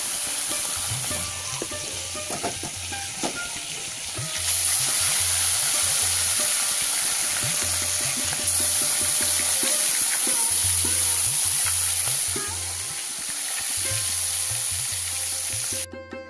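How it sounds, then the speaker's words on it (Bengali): Fish frying in a pan at home at lunchtime, with a loud, continuous crackling sizzle. Softer low pulses recur throughout, and there is no clear talk. "আর এদিকে এই যে আমি মাছ ভাজা বসিয়েও দিয়েছি"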